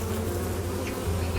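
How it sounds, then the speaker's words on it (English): Bees around a beehive after winter, a dense continuous buzz with a low steady hum, close and loud, no voices. "the first good news anyway is that there are plenty of bees around after"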